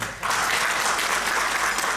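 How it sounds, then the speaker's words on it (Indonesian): A burst of audience applause at a panel discussion starts after a brief pause and continues steadily, dense and fairly close. "Tepuk tangan untuk beliau."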